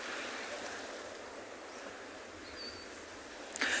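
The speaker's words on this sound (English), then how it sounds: "It is just so beautiful to watch the waves roll in behind Cormorant" Ocean waves roll onto the penguin beach at Cormorant Cove as a steady, soft, distant wash of surf with a little wind, faint and continuous, ending in a brief louder rustle.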